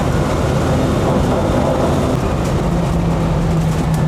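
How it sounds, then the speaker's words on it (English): A Land Rover FC101 V8 on the road, its engine buried under a loud, constant roar of wind, tyre and transmission noise that stays steady throughout with no talking. "the engine has been drowned out by wind noise, tyre noise, transmission noise"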